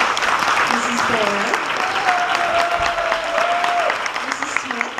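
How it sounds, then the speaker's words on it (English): Audience applauding for the teachers at a school spring sing, steady dense clapping that fills the room for the whole stretch, with a few sustained sung or hummed tones drifting over it. "give them a big round of applause"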